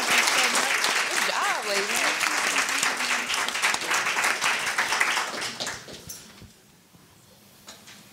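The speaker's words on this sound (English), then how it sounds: "can we give the panel a round of applause?" An audience claps for a panel of women military veterans at a public talk, with a sustained round of applause and a voice calling out over it, then the clapping tapers off into near quiet.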